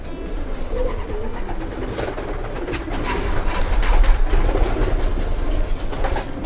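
Racing pigeons coo inside a loft in Reading, United Kingdom, a soft throaty cooing that runs steadily under a dense, noisy background of rustling, a radio and general loft clatter.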